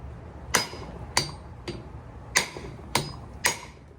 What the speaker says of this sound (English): So I just got a old 1/2 inch, and it should only take a couple whacks.